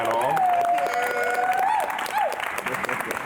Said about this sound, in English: Can we please get a round of applause for this incredible panel?